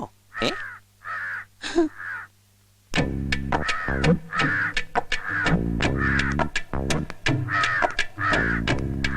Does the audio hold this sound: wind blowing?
no